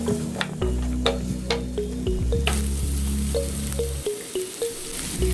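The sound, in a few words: chopped onion and green chilli frying in a pan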